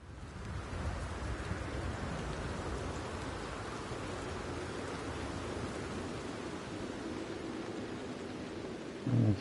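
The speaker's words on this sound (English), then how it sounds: "Well, I guess we gotta get this rain gone first, so" Steady rain in the video game Red Dead Redemption 2 hisses evenly throughout, a dense, constant downpour at moderate level with no talk, ending in a brief low thump.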